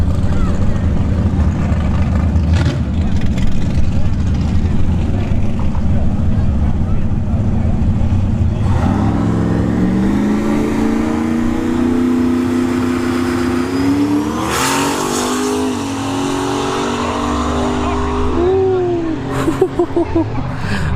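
A Ford LTD with a 5.3 LS engine and an 88mm turbo runs at a drag strip, its engine revving and rising in pitch as it launches, loud and continuous under a voice talking.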